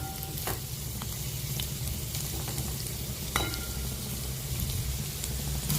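Potatoes for aloo gobi fry in a pan with a steady, dense sizzle throughout, broken by a few sharp clicks and spatters, close and continuous with no voices.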